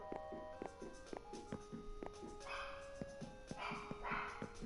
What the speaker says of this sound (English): sorry about the dog barking in the background at the very least